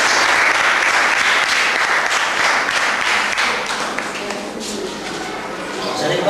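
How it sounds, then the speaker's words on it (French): Loud applause at a school reading festival celebration in Ali-Sabieh, many hands clapping vigorously and close, fading slightly before rising again, with voices mixed in. "je voudrais vous demander de l'applaudir très fort"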